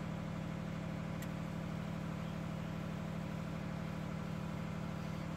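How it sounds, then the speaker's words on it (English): A Perkins engine genset under controller start attempt, heard as a steady, continuous low mechanical drone or hum with no clear cranking rhythm, constant in level throughout, close and unaccompanied by speech. "The genset controller trying to start the engine."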